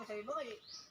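A pet bird at a beach resort gives a quick, faint whistled call, a couple of rising and falling chirpy notes lasting under a second.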